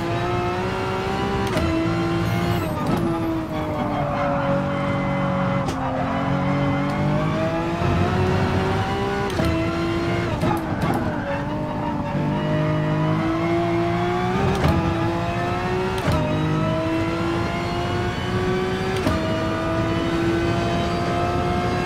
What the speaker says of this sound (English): But one thing you can check for yourself is how the car sounds.